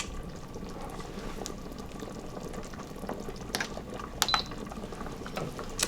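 Noodles simmering in a pot of galbitang beef short rib soup, a low steady bubbling wash with scattered faint clicks and ticks of utensils, quiet and continuous.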